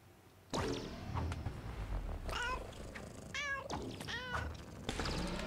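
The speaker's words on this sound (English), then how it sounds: "Press down to meow." A cartoon cat meows several times in the video game Gori: Cuddly Carnage, with short bright mews in quick succession over soft game background sound.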